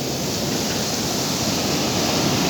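Pacific Ocean waves wash in a steady, dense roar of broadband surf noise, close and constant with no distinct breaks or voices.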